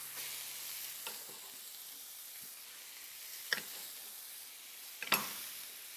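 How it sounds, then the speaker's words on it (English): Onions frying in a little oil in a hot pan while making haggis, a steady soft sizzle running throughout with a few sharper crackles and stirring clatters near the pan. "A little bit of oil in there. Just enough to get your onions cooking."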